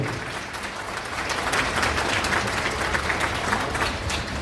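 Wedding guests in a wedding hall applaud the couple, a dense, steady wash of clapping that rises slightly after the first second and holds at a full, even level.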